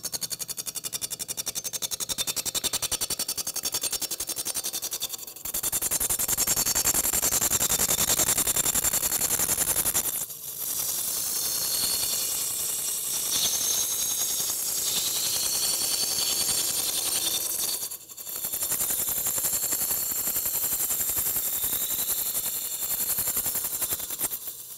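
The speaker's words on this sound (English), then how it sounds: "I'm going to start with a spindle roughing gouge and make this round and cylindrical." A spindle roughing gouge rounds a wooden blank on a lathe, making a loud, rapid chattering rattle that runs continuously, with brief pauses where the tool lifts off the spinning wood before it cuts again.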